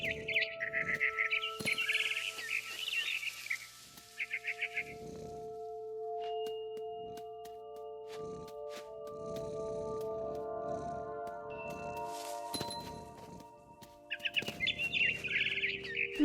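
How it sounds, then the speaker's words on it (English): Barn swallow chirping in What Remains of Edith Finch: bright, rapid twittering bursts at the start and again near the end, with sustained musical tones and soft movement sounds in between. "Then I heard chirping outside my window. It was a barn swallow going back to her nest."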